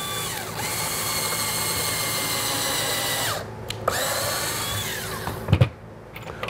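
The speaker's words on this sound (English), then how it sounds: "Drill your pilot hole about an inch from the top." A power drill whirs steadily while boring a pilot hole, close and loud. The motor sustains high-pitched whine, cuts out briefly twice, then stops, with a few knocks at the end.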